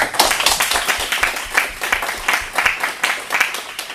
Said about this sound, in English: So I think a round of applause is due to them.